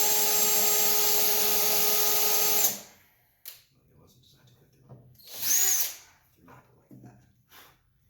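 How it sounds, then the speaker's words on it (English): Power drill boring through a guitar neck: a loud continuous whine for a few seconds that stops abruptly, followed by faint handling clatter and a brief second burst. "I'm going to have to use my drill and drill this through"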